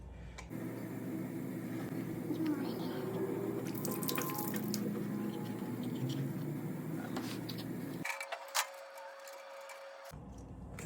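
Steady running water trickles and splashes for several seconds as a gas water heater drains, with a few faint drips and ticks, then the flow cuts out abruptly near the end.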